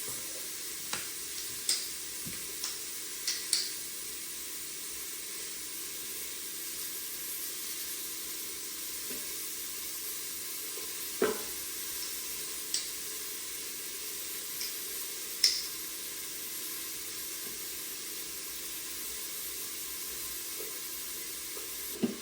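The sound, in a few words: garlic and onion sautéing and stirred in Instant Pot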